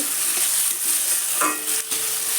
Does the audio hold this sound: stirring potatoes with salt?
yes